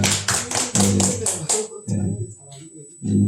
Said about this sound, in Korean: 박수로 하나님께 영광 돌립니다.